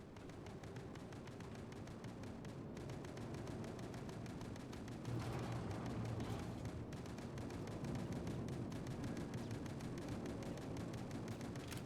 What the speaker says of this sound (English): Listen to them, they're still shooting.